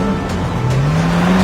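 Kia Stinger V6 twin-turbo with a bimodal exhaust, revving loud and close as the engine note climbs steadily in pitch, alone with no voices.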